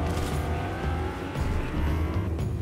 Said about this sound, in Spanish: Aguas, un carro.